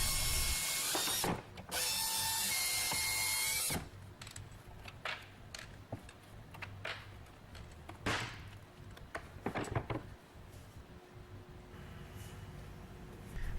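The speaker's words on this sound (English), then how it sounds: "remove the 4 screws from the shelves that attach them to the tracking unit" A power driver or screwdriver backs four screws out of the shelves fastened to a tracking unit: a long steady whirring burst up front, then scattered ratchety clicks and short mechanical knocks, fairly close.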